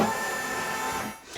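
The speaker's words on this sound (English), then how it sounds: "It says the carriage of the embroidery unit will move." Embroidery unit carriage of a home embroidery machine shifting into position during setup, a short, faint mechanical whirring that runs steadily and then trails off near the end.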